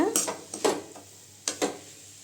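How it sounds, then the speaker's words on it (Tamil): A spoon stirs banana flower poriyal, a stir-fry with grated coconut, in a pan, making four short scraping clinks in two quick pairs, close and fairly quiet against a soft background hum. "தேங்காய் சேர்த்து நல்லா கிண்டி விட்டுக்கலாம்"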